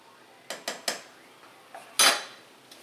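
A spoon stirs chicken and noodles in a pot, giving a few separate metallic clinks and scrapes at a steady pace, then one louder clatter, with quiet gaps between and no talking.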